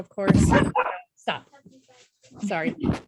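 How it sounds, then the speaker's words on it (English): A pet dog barks in short bursts close by at home while someone talks over and between the barks. "sorry about my dog"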